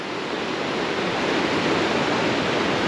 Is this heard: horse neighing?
no